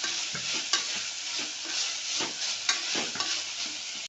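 Tomatoes and onions sauté in a pan with a little rock salt for a channa masala gravy, sending out a steady loud sizzle broken by repeated scraping stirs and a few sharp utensil clicks, with no talking.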